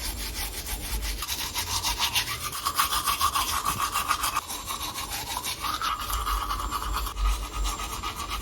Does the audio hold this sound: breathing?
no